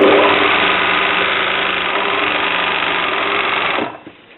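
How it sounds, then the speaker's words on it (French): A sewing machine stitches an invisible zipper into stretch fabric, running as a loud, continuous close whir with fast, even needle clatter, then stopping abruptly near the end. "Donc j'attrape l'arrière et je couds en tendant."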